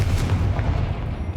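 A Confringo fire spell blasting in the wizarding game Hogwarts Legacy, heavy booming explosive rumble with a couple of sharp crackling bursts, loud and close throughout.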